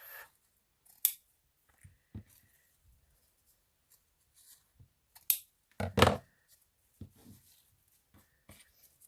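Sharp scissor snips trim a ribbon bow for a small handmade junk journal, with several quick separate cuts and faint paper handling between them in a quiet room.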